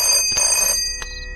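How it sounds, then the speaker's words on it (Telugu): A telephone rings with bright, repeated electronic bursts, two rings separated by a short gap, heard clearly and close with no talk. "మీ వాడెవడో పొద్దున్న నుంచి ఫోన్ చేస్తున్నాడు."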